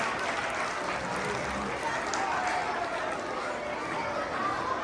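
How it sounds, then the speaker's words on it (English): A school assembly crowd applauds Honor Society students with a steady wash of clapping and murmured chatter that holds at an even level throughout. "One more big round of applause for our 4th, 5th, and 6th grade Honor Society students"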